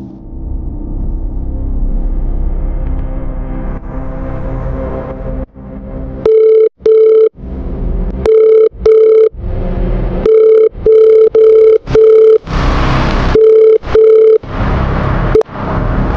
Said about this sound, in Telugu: అదేంటి కాల్ లిఫ్ట్ చేయట్లేదు?